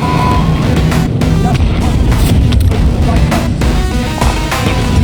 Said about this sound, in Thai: ระเบิดระเบิดซ้ายมือ